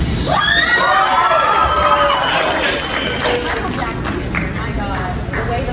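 At a comic and toy convention Q&A, a large crowd of girls screams and cheers, shrill sustained shrieks and whoops rising over a dense hubbub that carries on throughout.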